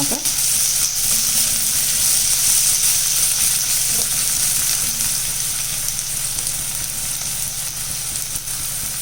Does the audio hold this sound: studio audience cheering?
no